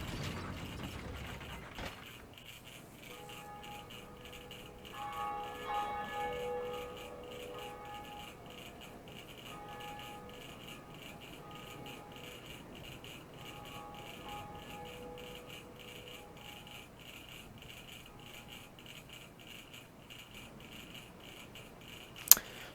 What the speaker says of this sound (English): So yeah, we ring one of those bells.